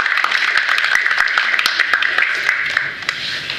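A hall audience at a lecture applauds the thesis supervisor with steady, dense clapping throughout, fairly close and even, thinning slightly toward the end.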